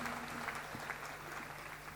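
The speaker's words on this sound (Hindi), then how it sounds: "तो आपकी तालियां लगातार बजनी चाहिए" An audience at a music programme claps continuously. The applause is faint and steady throughout the short stretch, over a low hum.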